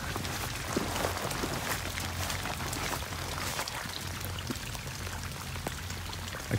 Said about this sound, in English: Some hard, fast rain.